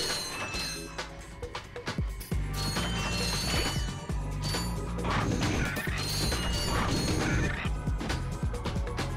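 Bolts being collected in the video game Ratchet & Clank, a rapid clatter of metallic pickups and crashing game effects over a steady music bed, loud and continuous throughout.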